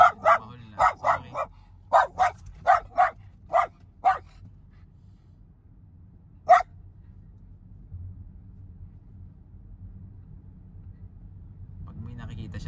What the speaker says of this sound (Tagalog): Tatahol yung aso ko kasi may nakikitang aso to.